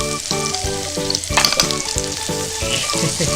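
Hamburg steak sears in a frying pan with a loud, steady sizzle that runs throughout, under rhythmic background music.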